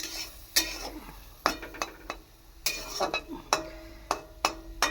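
Dried fish curry being stirred in a pan after a little water is added: a soft simmering bubble broken by sharp, irregular clinks and scrapes of a spoon against the pan, close, without speech.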